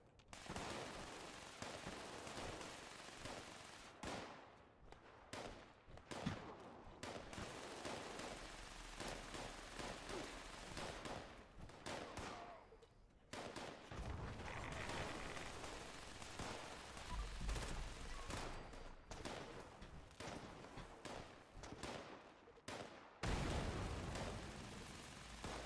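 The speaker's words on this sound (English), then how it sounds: "Who the hell is shooting? I hear you guys shooting." Gunfire in the video game Fallout 76, repeated bursts of rapid automatic shots and single cracks, fairly loud, broken by a few short pauses and booming hits, with no talking.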